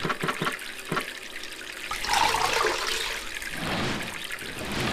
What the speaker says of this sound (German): Kann ich hier noch Wasser holen?